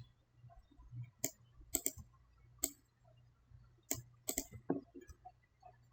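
Sharp, faint computer mouse clicks tap out in small pairs and clusters over a quiet hum, spaced irregularly as someone works at a desk.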